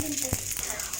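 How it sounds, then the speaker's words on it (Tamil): Mustard seeds splutter and pop in a little hot oil in a pan while tempering, a steady faint sizzle with a sharp crackle near the start, quiet and close. "ஒரு பேனில் கொஞ்சமாக எண்ணெய் ஊற்றிக்கோங்க. தாளிக்கிறதுக்கு தேவையான அளவு கடுகு வெடித்த பிறகு"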